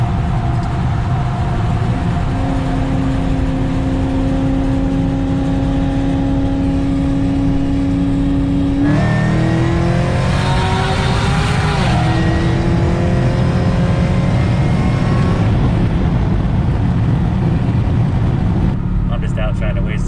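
In-car engine drone from a car fitted with an LSA supercharged V8 while driving laps to burn off fuel, a steady tone that climbs as the engine revs up midway, then settles, loud and continuous throughout.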